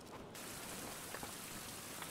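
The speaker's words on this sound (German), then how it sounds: "Es regnet." Steady rain falls in the survival game Survival Fountain of Youth, a soft, even patter with occasional louder drops, heard alone.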